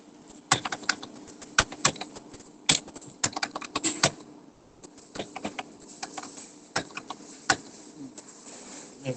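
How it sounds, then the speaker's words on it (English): Keys clatter on a computer keyboard in uneven bursts of sharp clicks, with pauses between runs, close and fairly quiet, no voices. "I'm typing from here."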